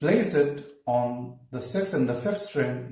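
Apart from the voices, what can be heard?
No everyday noise stands out behind the speech.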